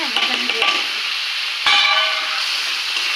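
Potato and chilli paste frying in a pan, a loud, bright sizzle with sharp stirring scrapes near the start and again partway through, continuing steadily to the end.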